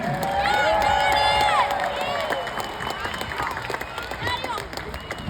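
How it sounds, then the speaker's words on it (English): Crowd at a drag race at Summit Motorsports Park in Norwalk cheers and claps loudly, with shouts and whistles rising over a dense roar of applause. Voices call out through the noise. "how about a round of applause for Ron Capps and Maddie Gordon?"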